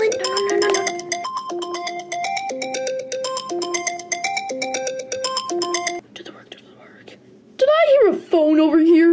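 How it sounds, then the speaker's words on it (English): A phone ringtone in a video game plays a bright repeating melody for several seconds, then cuts off, followed by a brief loud vocal outburst. "is that a phone? Yes, it's my phone."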